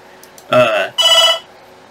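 A phone ringtone sounds nearby in two loud, tonal bursts of about half a second each, separated by a short gap, with no talking in between.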